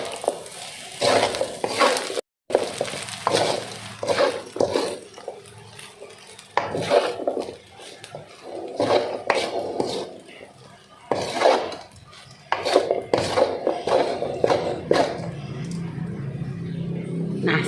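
Fried rice with petai being stirred in a pan after the flame is switched off, with a steady stream of scraping spatula strokes and clinking metal, close and fairly loud, with a brief break partway through.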